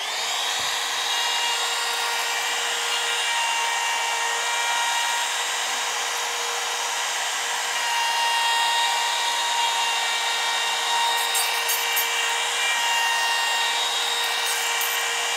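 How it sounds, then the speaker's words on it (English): A wood router cuts cedar cladding on a garden-room store door with a continuous high-pitched motorised whine and a steady buzzing cut. It is loud and close throughout, rising slightly in the second half. "I'm now using my finger to lock the router on"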